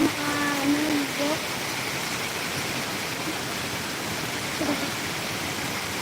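An afternoon rain in a provincial Philippine village makes a constant broad hiss that holds steady, with brief voices heard faintly at the start and near the end.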